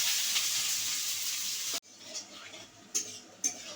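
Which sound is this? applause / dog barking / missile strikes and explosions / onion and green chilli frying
onion and green chilli frying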